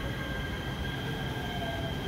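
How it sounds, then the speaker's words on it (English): A train rolls along the rails in Azusa, California, heading east, with a steady rumble and a high metallic squeal from the wheels, heard from inside, with no talking. "This train actually going east has one more stop"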